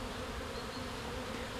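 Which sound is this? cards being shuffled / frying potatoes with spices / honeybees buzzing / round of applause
honeybees buzzing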